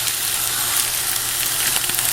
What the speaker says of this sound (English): I like the sizzle.